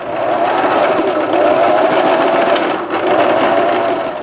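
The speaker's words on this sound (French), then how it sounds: "à refaire une couture ici de finition qui va venir solidariser ces deux bouts de tissu ensemble" A sewing machine stitches a finishing seam close beside a zipper on fabric for van seat covers, running as a steady loud whir with a brief pause in the middle.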